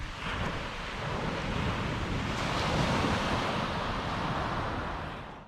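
Surf breaking steadily on the beach at Chapel Point on the Lincolnshire coast, a continuous loud wash of waves with wind buffeting the microphone throughout.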